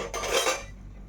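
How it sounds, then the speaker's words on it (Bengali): A metal wok (karai) set down on a kitchen stove, a short clattering scrape and clank of cookware that fades quickly into quiet room tone, no voices. "কড়াই বসাই দিয়েছি"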